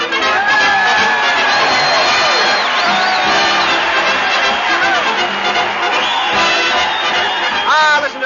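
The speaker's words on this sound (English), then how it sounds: "Listen to that crowd cheer Fred Allen as he heads his weekly parade to the old town hall." A large crowd cheers and whoops for a comedian leading a parade to the town hall on a 1938 radio broadcast, loud and continuous with shouts and yells rising over a dense roar, swelling near the end.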